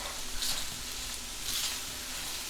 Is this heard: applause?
no